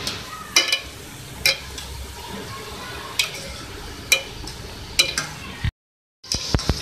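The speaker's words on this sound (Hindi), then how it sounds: "अब मैं इनको फ्राई करूँगी ऑयल में" Diamond-cut shakarpara fry in oil with a soft continuous bubbling sizzle, punctuated by regular sharp ticks like a spoon tapping the pan, briefly cutting out near the end.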